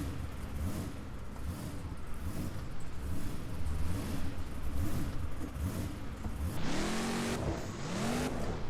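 The Predator monster truck's engine in the BeamNG driving game revs hard and steadily, rising and falling, then climbing sharply in several surging bursts near the end, loud with no talking.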